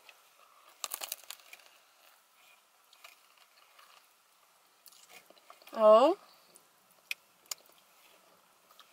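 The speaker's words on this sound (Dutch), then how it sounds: "Oké, deze eerste hap is heel lekker." A first bite into a fresh carpaccio sandwich with pesto and pine nuts gives a brief, close crunchy burst early on, followed after a quiet stretch by a short voiced exclamation and faint handling noises.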